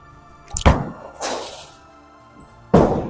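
A bowling ball, a new Alpha Crux on its first throws, lands with a heavy thunk on the lane and rolls away, and a loud crash of pins follows near the end.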